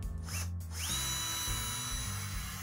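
A power drill bores screw holes in a blank metal I/O shield plate clamped in a vise, giving a steady, close, continuous whine with no talking.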